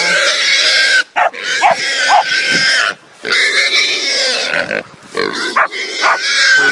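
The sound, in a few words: pig grunting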